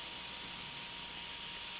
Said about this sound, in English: I'm fully at 15 PSI, and I'm spraying in there pretty close